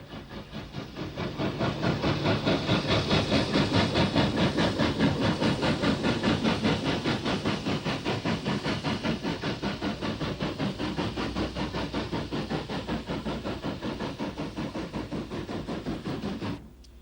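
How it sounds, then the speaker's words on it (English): A GNR mogul steam locomotive hauling a scheduled freight train from Portadown to Belfast in Ulster, with rapid rhythmic exhaust chuffs and hiss building up loud and close, then holding steady before cutting off abruptly. "The mogul has the 120 relief to the scheduled 130 freight from Portadown to Belfast"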